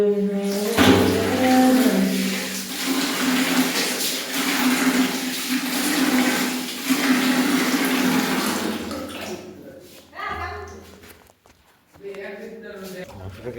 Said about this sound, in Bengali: মাংসটাকে আমরা একদম পেয়ার সে মাংসটাকে ধুয়ে নেবো